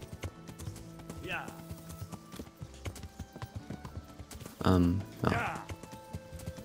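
Horse hooves clip-clopping in the video game Kingdom Come Deliverance as a rider heads off-road downhill, a steady rhythmic trot beneath someone speaking German, with a brief snort or whinny partway through.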